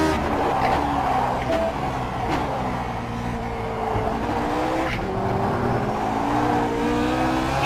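A Lotus 49 racing car in iRacing at Donington, its engine roaring close and loud as it short shifts out of a corner, with tyre scrub and skidding under a pitch that climbs and drops repeatedly.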